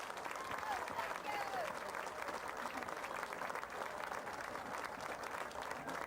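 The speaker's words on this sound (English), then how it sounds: "Let's have a big round of applause for these folks." A crowd applauds at a high school football game ceremony, fairly distant and faint, with steady continuous clapping and a few voices over it.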